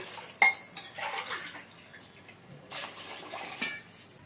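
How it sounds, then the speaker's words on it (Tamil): Water poured into a pot of rice and spiced masala while making a greens (pannai keerai) biryani, with splashing and clinking of utensils against the pot. Clattering sounds come in short bursts, close and fairly quiet. "ஒரு டம்ளர் அரிசி எடுத்துருக்கேன். அதுக்கு 2 டம்ளர் தண்ணி சேர்க்கிறேன்."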